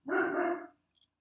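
A lone dog gives one short, clear bark, close and moderately quiet, followed by silence.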